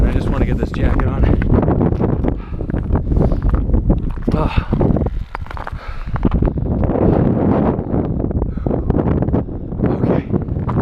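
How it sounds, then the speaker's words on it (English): Strong gusting wind buffets the microphone on a winter mountain hike on Cascade and Porter, a dense, continuous roar with irregular surges. A person talks underneath at times. "Right now, wind is picking up"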